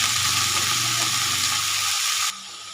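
Papaya frying in a pan for a home-cooked curry, a steady bright sizzle that holds close and loud for about two seconds, then drops abruptly to a quieter hiss.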